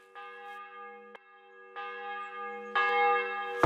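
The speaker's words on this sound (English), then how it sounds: "The 11th toll of the bell." A church bell tolls within the game Kingdom Come: Deliverance II, three or four resonant strikes ringing out clearly with long humming decay between them, the final strike loudest.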